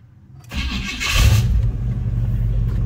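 A Cadillac DeVille's 472 V8 cranks and catches after a quiet moment, then settles into a loud, rumbling idle close by.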